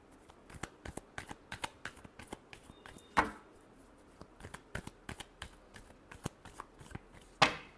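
Tarot cards being shuffled up close, a quick run of papery riffles and flicks with a couple of sharper snaps, fairly quiet and with no talking.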